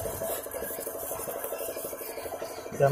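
Rapid, rhythmic back-and-forth rasping of sandpaper against a small metal part, a Suzuki Satria FU motorcycle valve stem, steady and close.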